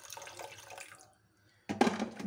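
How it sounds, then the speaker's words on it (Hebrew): A quarter cup of water is poured into simmering crushed-tomato sauce for a Syrian chickpea and eggplant stew, giving a soft splashing wash that fades to near silence before a louder, closer burst of liquid. "אפשר להוסיף בשלב הזה עוד רבע כוס מים"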